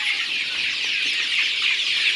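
On a farm, a flock of Tiger breed chickens keeps up a steady, dense chorus of clucks and chirps, many birds calling over one another at an even level with no speech.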